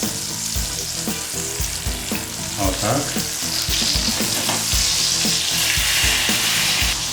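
Chicken roulades made from minced chicken breast with rosemary fry in a pan, giving a loud, steady close sizzle with repeated clinks and scrapes of turning; a voice speaks briefly.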